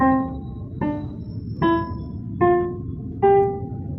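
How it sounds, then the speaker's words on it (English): Five short, detached notes sound one after another at an even pace, each cut off quickly with brief gaps between them. "playing this staccato will sound like this"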